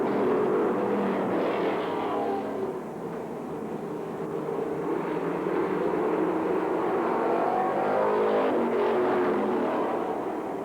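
Street stock race cars roar around the track on the final lap of a B feature, a dense, continuous engine drone that swells slightly as the pack passes.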